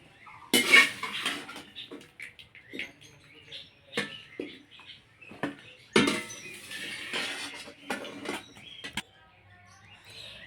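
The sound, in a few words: straining boiled drumstick stalks out of water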